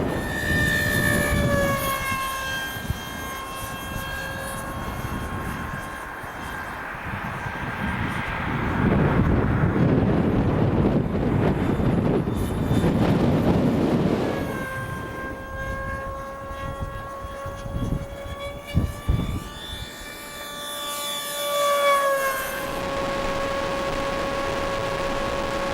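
A Jet Hawk RC jet airplane flies in strong wind over snowy ground, its engine whine rising and falling with steady tones and a loud swelling pass near the middle, continuous throughout.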